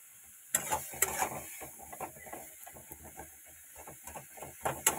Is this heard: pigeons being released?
no